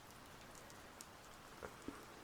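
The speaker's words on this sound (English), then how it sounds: "I like the rain from here." Steady rain falls outside a cabin, a soft continuous hiss of drops at middle distance with a few slightly louder drips near the end, quiet and unbroken by voices.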